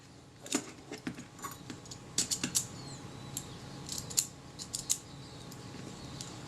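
Vintage Kodak Retina camera with a Xenar f2.8 50mm lens being worked on during a service, its shutter mechanism tripped and cocked in a quiet room, giving a series of small, sharp metallic clicks and snaps spread irregularly across the clip.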